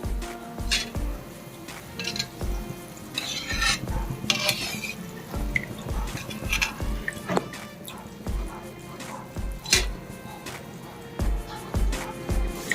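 Boondi balls are tipped into sugar syrup and stirred, producing repeated ladle clinks against a metal pot, wet dripping and sloshing, with a brief voice faintly in the background.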